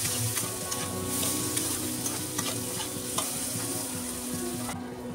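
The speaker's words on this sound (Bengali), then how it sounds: "এবারে আবারও ভালো করে একটুখানি নাড়াচাড়া করে নেব" Pav bhaji vegetables mixed with packaged pav bhaji masala are stirred in a pan, giving a continuous sizzle with repeated scraping strokes of the spoon, close and fairly quiet, with no voices.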